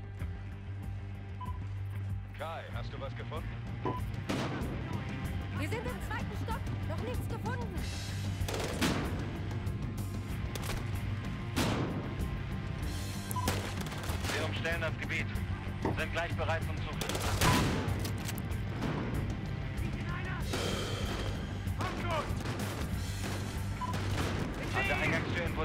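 Gunfire in the shooter game Battlefield Hardline, with scattered bursts of shots over a continuous low rumble of game ambience and a steady background hum.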